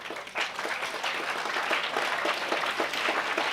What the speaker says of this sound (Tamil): இந்த கைத்தட்டல் ரொம்ப எனக்கு பிடிச்சிருக்கு